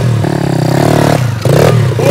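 A cheap Temu motocross bike revs loudly and close by, its engine note climbing in pitch in two bursts with a brief dip between them.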